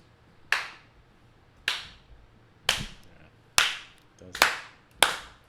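Six slow, sharp hand claps ring out one at a time with long gaps between them, building gradually in pace, each one near and crisp with a short decay.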